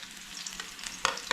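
Onion frying in a pan for balbacua, a soft steady sizzle with a sharper crackling burst near the end, brief and fairly quiet with no voices.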